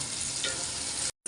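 Onions sizzle and fry in a pan with a little salt, a dense, close crackling hiss that holds steady before cutting off abruptly near the end.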